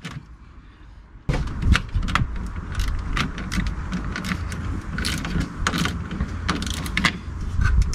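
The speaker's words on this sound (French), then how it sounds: "On dessert le petit écrou de la batterie avec une clé de 10." A 10 mm wrench loosens the small nut on the 12-volt battery of a Tesla Model X, giving close, sharp metallic clicks and scraping taps in an irregular run after a quiet start.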